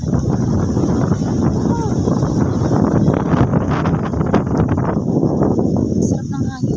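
Wind blowing steadily across an open farm field in a garden, a constant broadband rush buffeting the microphone for the whole stretch, with faint rustling and brief distant voices underneath.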